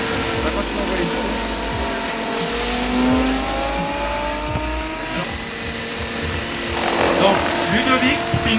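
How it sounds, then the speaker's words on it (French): A model helicopter with a methanol engine runs at an outdoor model meeting, its high whining motor rising and falling in pitch over several seconds amid crowd noise and nearby talk. "Ludovic Pinault vous fait une démonstration avec un hélicoptère motorisé par un moteur méthanol"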